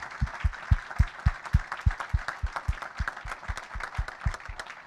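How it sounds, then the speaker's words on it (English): A round of applause for students at a school board meeting, with a small group clapping in a steady, close pattern of sharp claps under a faint background of voices. "let's give a round of applause to everybody"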